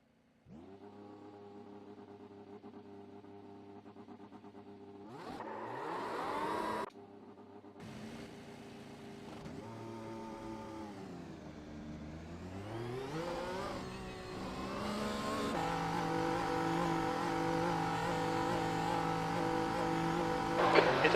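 A race car engine in the iRacing sim at Imola hums at idle, then revs and shifts through rising and falling pitches, building to a loud sustained high-rev drone with no talk over it.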